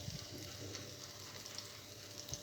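Garlic and tempering seeds sizzle in hot oil in a pan on the stove while a Telugu chutney tempering is prepared, a steady close crackle with no talk.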